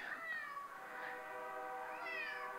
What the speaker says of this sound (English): this cat is super demanding, so he's going to be meowing a lot